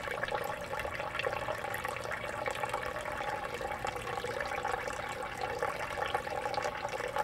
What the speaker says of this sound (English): I can use a lot gentler flow, and hopefully the gold will get captured up near the top of the sluice where it ought to be